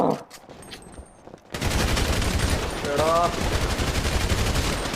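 Gunfire in a video game, a few scattered shots followed by dense rapid automatic fire that stays loud and continuous, with a short tonal game sound over it.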